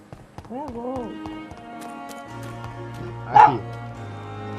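A dog in the video game Vampyr whimpers in rising, wavering whines, then gives a sharp yelp, set against a low sustained musical drone and scattered game sounds.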